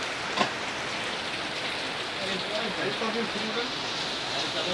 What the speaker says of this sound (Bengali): বৃষ্টি পড়তেছে প্রচুর